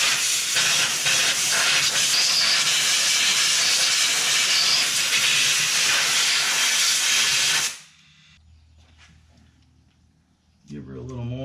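Compressed air blasts debris out of a small engine's carburetor, a loud continuous hiss for about eight seconds that cuts off abruptly, leaving quiet background with a faint voice near the end.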